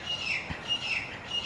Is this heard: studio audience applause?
no